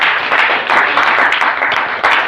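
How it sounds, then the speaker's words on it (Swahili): A congregation claps for Jesus during a thanksgiving church service, a dense, continuous wash of many hands applauding loudly and close throughout. "Pigia Yesu makofi"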